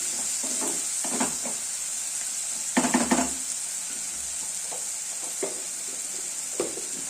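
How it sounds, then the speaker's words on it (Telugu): Chopped onions fry in a salted pan under a steady hiss, with scattered stirring scrapes and a brief cluster of louder clatters, close by and with no voices. "ఆనియన్ మెత్తపై రెడ్ కలర్ వచ్చినంత వరకు వేయించుకోవాలి"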